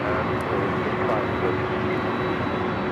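Aircraft at Los Angeles airport near runway 24 left, a steady, loud broadband engine roar holding throughout with a faint whine, somewhat distant and unchanging.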